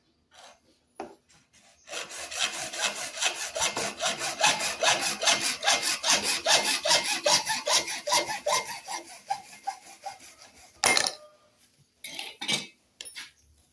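Steady back-and-forth sawing through wood, rhythmic rasping strokes for several seconds, then a few short scraping bursts after a pause.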